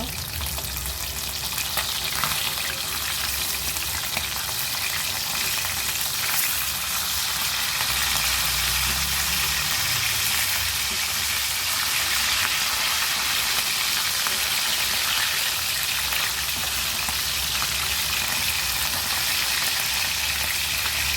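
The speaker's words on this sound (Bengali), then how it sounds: "আমি মাথা লেজ সব এনেছি ইলিশ মাছ ভাজার জন্য।" Pieces of hilsa fish, head and tail included, sizzle in hot oil with a loud, unbroken crackling hiss that runs on and on. Faint stirring and pan sounds mix in now and then, and there are no voices.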